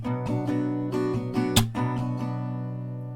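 Steady acoustic guitar strumming in a down-up pattern, with a sharp hand clap punctuating it near the middle, for a song tutorial; bright, close and continuous.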